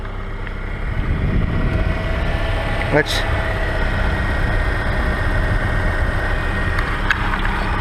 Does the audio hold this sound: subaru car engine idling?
yes